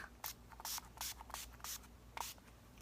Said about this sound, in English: that's just finishing spray